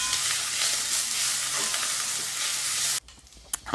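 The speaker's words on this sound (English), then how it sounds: "2 onions cut lengthwise that I saute, and then add in garlic and ginger paste. I stir in until it's aromatic." Onions, garlic and ginger paste sizzle in hot oil while being stirred in a pan, a loud, continuous frying hiss up close that cuts off abruptly near the end, leaving a brief scrape.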